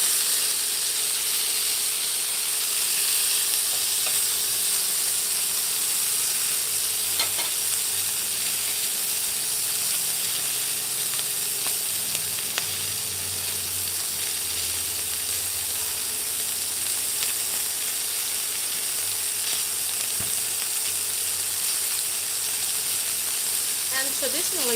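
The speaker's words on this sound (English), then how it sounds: "I'm just quickly rotating my skewers so they cook properly." Beef espetada skewers turning in a hot pan give off a continuous loud hiss and sizzle, broken by a few faint clicks as they are rotated.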